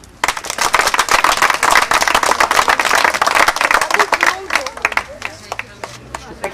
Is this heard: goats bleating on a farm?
no